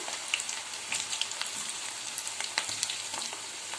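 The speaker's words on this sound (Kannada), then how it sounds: "ಎಣ್ಣೆಯಲ್ಲಿ ಫ್ರೈ ಮಾಡ್ಕೋಬೇಕು" Cauliflower pieces for gobi manchurian deep frying in oil over a low flame, a steady close sizzle with scattered small pops and crackles throughout, alone without talk.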